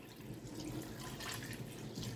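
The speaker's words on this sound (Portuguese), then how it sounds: "Aí eu vou completar essa água." Water pours steadily into a portable mini washing machine, giving a continuous splashing rush that stays even and close for the whole stretch, with no one talking.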